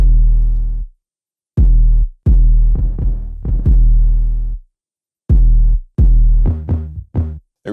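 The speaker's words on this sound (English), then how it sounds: "utilizing the ADSR with the 808s is crucial because you can create bounces that sound like this" Deep 808 bass notes in a bouncy rhythmic pattern, each shaped by an ADSR envelope into punchy booming hits of varying length, separated by short gaps of silence, loud and alone.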